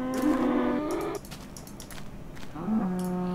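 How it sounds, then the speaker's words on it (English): Cattle mooing inside the video game Minecraft, two long drawn-out moos with a quiet gap between them, close and fairly loud over a faint background. "hearing those cows is a little bit annoying."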